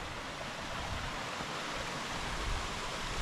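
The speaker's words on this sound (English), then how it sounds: "Because this is the waterfall." Waterfall in Germany's Black Forest on a cold day, a constant rushing roar of falling water that stays loud and even throughout, with no voices.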